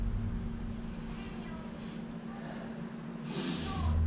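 A short nasal sniff at a glass of Feather Bed craft beer from a growler comes near the end, soft and close over a quiet room hum.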